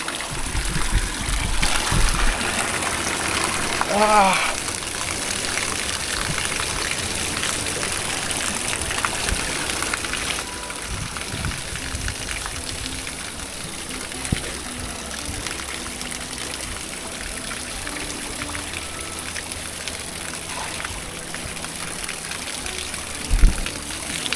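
Steady hiss of hot spring water running from a pipe at Jhinu Hot Spring, Nepal, continuous and fairly close, with a few faint knocks and no talk.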